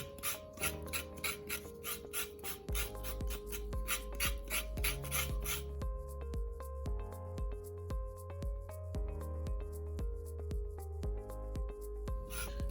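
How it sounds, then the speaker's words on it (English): Carrots having their thin outer skin scraped off for juice, heard as a steady run of close, rhythmic rasping strokes over a background of music. "Just scrape all the thin outer layer and you'll be fine."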